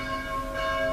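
A church bell rings a call to an important mass, a steady sustained metallic tone with a long ringing hum that fills the whole moment.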